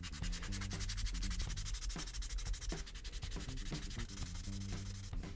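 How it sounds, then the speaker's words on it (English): A piece of a Master Grade Blitz Gundam model kit is hand-sanded in steady, continuous rubbing strokes, close and fairly loud, with a dense, tonal background running under it throughout. "I will do the rest of the sanding on this piece"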